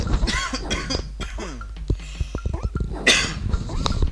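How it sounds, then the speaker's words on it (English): A few sharp coughs burst out among clicks and faint background sounds, with a harsher throat-clearing burst near the end. "I'm ever so slightly getting over a cough here."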